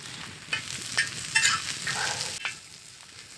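Broccoli and carrots sizzle in a pan over a winter campfire, a soft continuous frying hiss broken by several clattering stirs and scrapes, fairly quiet and close with no talking.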